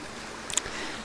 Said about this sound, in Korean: 계곡 물소리가 들리시죠?